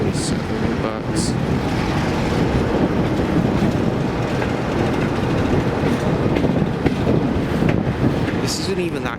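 A diesel locomotive train passing on the Gloucestershire and Warwickshire heritage railway, a loud, close, sustained rumble with rhythmic wheel clatter and a couple of brief high squeals, as a voice talks underneath.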